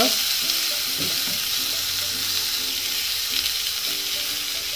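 Tomatoes sautéing in a pan with onions give off a steady, close-up broadband sizzle, with a few soft scraping stirs near the start; no one speaks.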